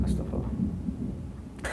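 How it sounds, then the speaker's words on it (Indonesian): A low, rolling rumble of thunder from a storm outside runs steadily throughout, ending with a brighter crackle. "ada petir"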